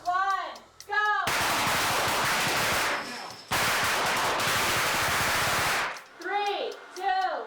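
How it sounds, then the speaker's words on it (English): Two long bursts of rapid gunfire on a film set fill the scene with dense, loud crackling, while voices speak before, between and after the barrages. "You see all of the barrage of gunfire."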